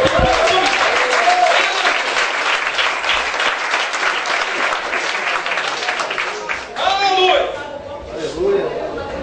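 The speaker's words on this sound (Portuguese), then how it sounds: "dê um aplauso a Jesus" A church congregation applauds loudly at a conference service, sustained dense clapping with cheers and voices mixed in throughout.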